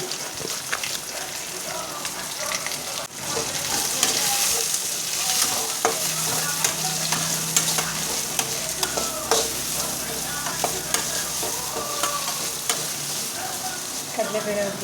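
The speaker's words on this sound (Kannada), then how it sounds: "ಈರುಳ್ಳಿ ಎಲ್ಲ ಫ್ರೈ ಆದಮೇಲೆ" Onions frying in a pan for tomato bajji, stirred with a utensil: a continuous crackling sizzle with frequent scraping taps and clicks, growing louder after a few seconds.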